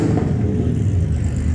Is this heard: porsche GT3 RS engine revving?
yes